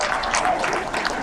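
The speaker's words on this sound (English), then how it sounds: "Another round of applause." Applause from an audience at an evening fundraising gala, a steady wash of many hands clapping at moderate volume without talk.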